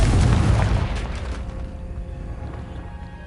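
A Confringo blast spell in the video game Hogwarts Legacy goes off as one loud, close, booming explosion that rumbles and decays over a few seconds, with no talk.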